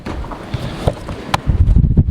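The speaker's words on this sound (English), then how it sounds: "Pretty windy out here" Gusty wind buffets the microphone outdoors, a low rumbling roar that swells and surges in bursts, loudest toward the end.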